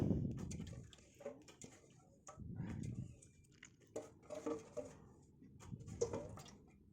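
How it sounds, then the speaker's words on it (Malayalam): Jackfruit seeds tumble into a pressure cooker in a Kerala kitchen, a few soft clattering bursts and knocks spread across several seconds, quiet and close with pauses between. "അത് കുക്കറിലേക്ക് ഇട്ട് കൊടുക്കുക."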